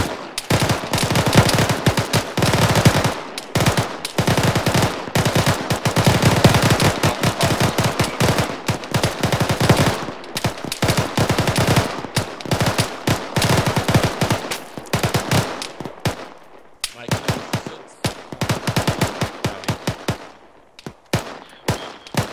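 Sustained suppressing machine-gun fire in Arma 3 squad training: long rapid bursts of automatic gunfire, loud and close, with short gaps between strings of shots and scattered additional shots toward the end.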